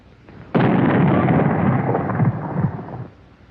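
A Boys anti-tank rifle fires in a 1942 training film, one sudden loud booming blast that rolls on for about two and a half seconds before cutting off, heard alone with no voices.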